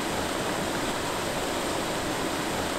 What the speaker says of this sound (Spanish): aquí vemos cómo va cayendo el agua